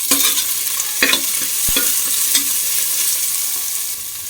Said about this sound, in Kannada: ಈಗ ಇದಕ್ಕೆ ಜಜ್ಜಿಕೊಂಡಿರುವಂತಹ ಶುಂಠಿ ಬೆಳ್ಳುಳ್ಳಿನ ಹಾಕ್ಕೊಳ್ತಿದ್ದೀನಿ.